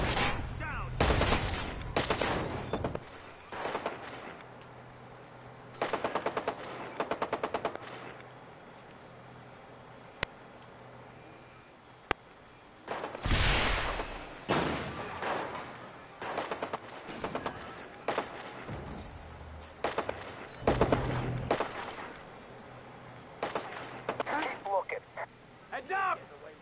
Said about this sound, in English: it sounds like they got some big guns